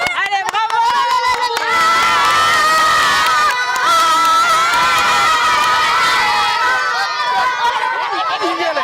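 A crowd of children in Mali cheers, shouts and claps in a loud, dense burst close by, with excited voices overlapping throughout.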